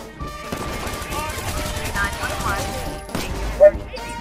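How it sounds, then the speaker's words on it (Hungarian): Video game gunfire in a fusillade of shots, ending with a headshot. It rattles continuously at moderate loudness, with a brief sharp spike near the end, under a busy game soundscape. "Arcon lőttem, bazd meg!"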